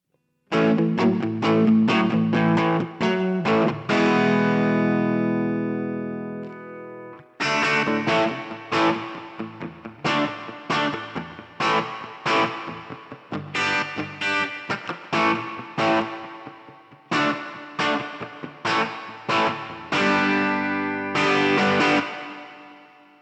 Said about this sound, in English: you could turn on, say, a spring reverb if you wanted to